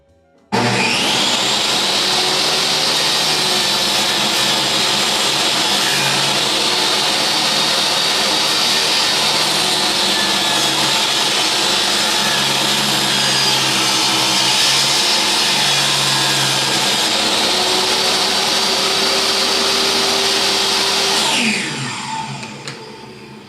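A power saw cuts boards while a featherboard presses the workpiece against the fence. It gives a loud, steady whining roar that holds for about twenty seconds, then spins down and fades.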